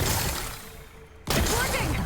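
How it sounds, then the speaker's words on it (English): Rocks are blasted apart in the Horizon Forbidden West video game. Rumbling game ambience cuts to a sudden loud crash of shattering debris that scatters and tumbles afterward. "Gotta blast away some rocks."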